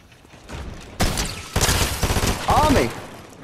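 Fortnite gunfire erupting after a quiet start: close, loud volleys of rapid shots overlapping, with a voice briefly heard among the bursts.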